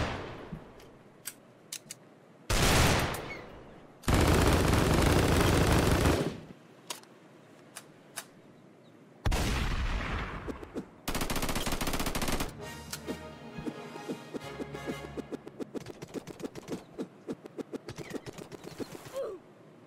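Gunfire from the Roblox shooter Strucid plays as loud sustained bursts and rapid crackling volleys, mixed with scattered single shots and clicks, all close and without talking.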